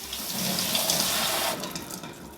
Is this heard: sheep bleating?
no